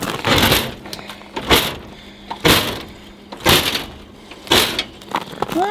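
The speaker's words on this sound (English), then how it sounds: "I don't know if I'll be able to get the door open very far." A door being pushed open against a frost-heaved paving stone, giving repeated loud rough scraping strokes about once a second, close by, with a brief squeak near the end and no talking.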